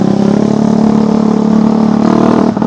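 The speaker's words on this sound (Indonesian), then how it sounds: "karena berisik banget nih motor, saya jadi nggak fokus." Loud motorcycle engine on the road just ahead, a steady close buzzing drone that holds constant, dipping briefly near the end.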